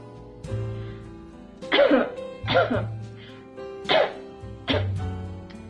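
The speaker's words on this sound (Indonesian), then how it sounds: "kita bisa menggunakan lengan baju kita, lengan baju sisi dalam ya teman-teman untuk batuk" Four or five muffled coughs in a row, close by and dampened into the inner side of a sleeve, spaced about a second apart.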